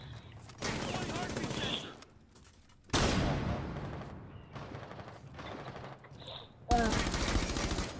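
Bursts of automatic gunfire in Rainbow Six Siege arrive in several long, loud rattling volleys separated by short quiet gaps, with faint background game sounds between bursts.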